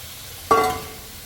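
Cut pumpkin pieces drop into a hot pan and are stirred, giving one short scraping, sizzling burst that quickly fades to quiet.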